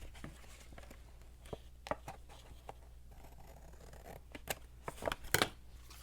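Paper for a handmade journal is trimmed with scissors in a series of soft close snips and crisp rustles, growing busier toward the end, in a quiet room.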